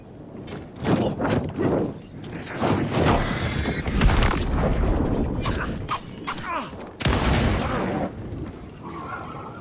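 Shotgun fire and combat in the Alan Wake 2 video game, with repeated heavy blasts and clattering impacts in a busy, loud mix.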